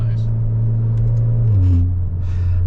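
A 2017 Alfa Romeo Ti Lusso with a muffler delete and ZF eight-speed gearbox drives with a loud, steady engine drone that rises in pitch midway, a quick shift audible, with people talking over it.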